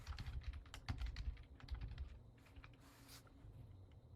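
Rapid keystrokes on a computer keyboard as a name is entered into an online enrollment form, irregular clicks in quick bursts with brief pauses, close and fairly quiet, no voices.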